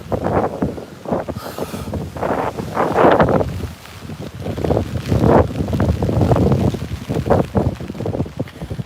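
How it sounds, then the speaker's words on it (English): Gusty wind on a lakeshore ahead of a lake effect rain shower, buffeting the microphone in loud uneven surges and rumbles that swell and fade with no voices. "it's gonna be windy until it I think passes right over us"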